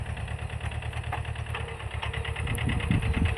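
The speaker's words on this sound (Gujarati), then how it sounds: "આ રીતનું ટ્રેક્ટર ચાલે છે" A Jio mini tractor engine runs at a steady idle nearby, its low chugging hum fairly quiet and even, with a slightly heavier knock toward the end.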